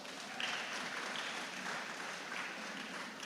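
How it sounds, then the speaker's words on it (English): Audience applause at a youth in agriculture symposium, a steady wash of clapping held at a moderate, even level throughout with no talk over it. "Give him a big round of applause."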